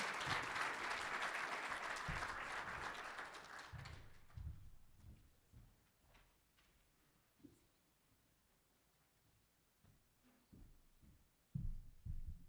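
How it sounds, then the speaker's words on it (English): Applause at a business awards event for startup finalists, loud at first and fading out after about four seconds, followed by quiet room noise with scattered thumps and handling sounds. "Let's give a final round of applause for all four Startup Business of the Year finalists"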